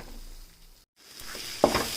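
Pepper curry paste sautéing in hot oil in a pan for milagu kulambu, a soft steady sizzle broken by a brief silence, then louder frying with stirring scrapes near the end.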